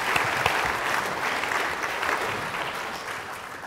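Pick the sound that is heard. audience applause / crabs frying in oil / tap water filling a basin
audience applause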